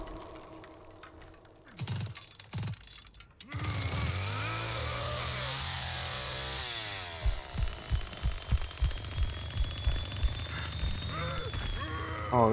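A chainsaw revs in The Texas Chain Saw Massacre video game, a loud sustained buzzing roar after some brief choppy sounds, then sputtering pulses as it winds down.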